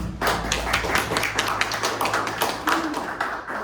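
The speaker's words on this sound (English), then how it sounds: "another round of applause" An audience claps in a round of applause at an evening show, a dense patter of many hands at close range with a voice speaking over it.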